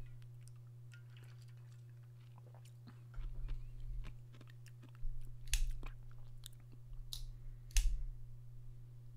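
A frozen Charleston Chew candy bar gets bitten and chewed close to the microphone, with faint clicks at first, then louder crunching bites in uneven bursts against a steady low hum.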